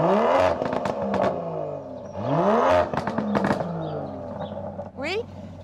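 An Aston Martin engine revs up in sharp rising sweeps, close and loud, while people talk over it, ending with a quick final blip.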